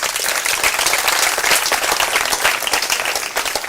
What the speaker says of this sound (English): Give him a hand clap, please.